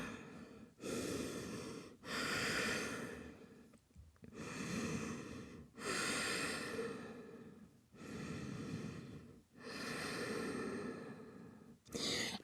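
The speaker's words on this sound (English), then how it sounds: "We'll be here for 3 rounds of breath." Deep yoga breathing during a home session, with slow, full inhales and exhales heard close and clear in a steady rhythm of about six long breath cycles, each separated by a short pause.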